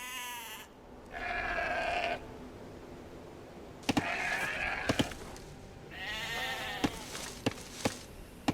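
Sheep bleat several times in wavering calls in the video game Age of Empires II, mixed with sharp clicks and a low background hum, no talking.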